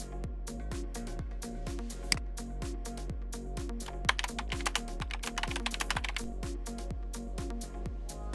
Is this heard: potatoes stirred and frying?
no